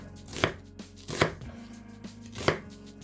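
Half an onion being julienne sliced with a knife on a cutting board for army stew, three distinct, fairly quiet chopping strokes spaced about a second apart with no talking.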